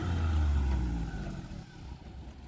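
Idling engine of a used car after a cold start, a low steady rumble close by that eases slightly partway through, with faint talk nearby.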